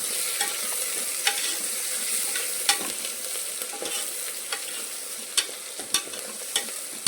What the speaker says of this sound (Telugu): ఒకసారి ఇప్పుడు కలుపుకుందాం.